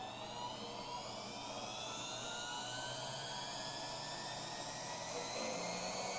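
A Hoover vacuum cleaner motor running at about 4,200 RPM, giving a steady, high-pitched whine with a gradually rising tone that stays constant and fairly loud throughout.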